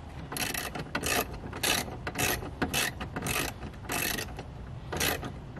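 A ratchet works on the last bolt of a Ford Mustang's glove box, giving close, repeated bursts of rapid clicking in an uneven rhythm, with short pauses between strokes.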